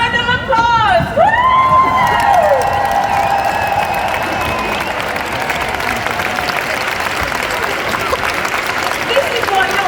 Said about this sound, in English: get on your feet right now. It's time to give yourself a massive round of applause.